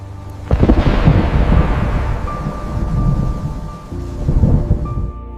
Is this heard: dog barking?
no